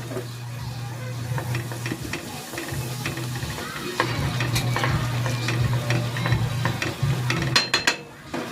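Flour being stirred into sizzling cooking oil and butter in a pan for a sauce, a steady fry hiss with repeated scraping stir strokes and utensil clicks, close and fairly loud, no talking.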